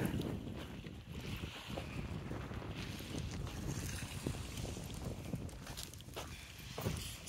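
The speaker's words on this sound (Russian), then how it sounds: "сегодня ветерок достаточно сильный" Strong wind at the seashore by a beach with seaweed along the shore buffets the microphone in a constant rough, gusty roar, with a faint sound like water in the background.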